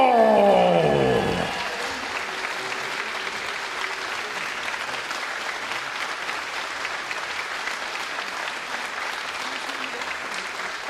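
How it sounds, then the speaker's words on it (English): An arena audience at the UK Open Pool Championship final claps steadily for the champion, a dense wash of applause. A brief announcer's voice opens the stretch and then fades out. "Please give it up, make some noise from Hong Kong, Robbie Capito!"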